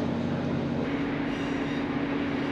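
Train running along the Looe Valley branch line, a steady close rumble of wheels and carriage noise with a faint hum throughout.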